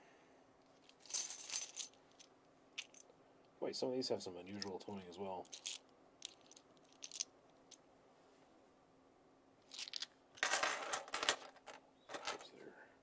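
Silver quarters clinking and jingling as they are handled in a small pile, with bright metallic bursts in short clusters, close and fairly quiet, alongside someone speaking briefly.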